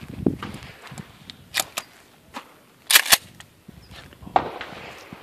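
Three sharp, loud reports from a 12 gauge shotgun firing Rio Royal #4 buckshot zombie rounds with 21 pellets, spaced irregularly with quieter clatter and handling noise between them.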